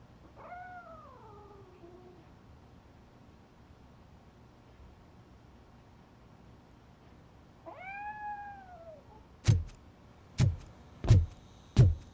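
A cat in Robocop Rogue City gives two drawn-out, wavering meows several seconds apart, followed by four sharp, evenly spaced thuds at the end.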